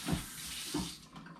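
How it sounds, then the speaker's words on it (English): Tap water rinsing the gears of a juicer in a kitchen sink: a short close splashing run of water with two stronger gushes, and no talk. "rinse off on the gears there"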